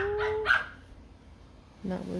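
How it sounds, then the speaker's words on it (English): A dog in a crate gives a few short, nearby barks and yips. A brief vocal sound follows after a quiet pause. "he started to bark a little bit, and he sat up."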